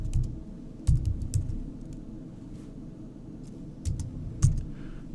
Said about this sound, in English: So let's just type in lambda.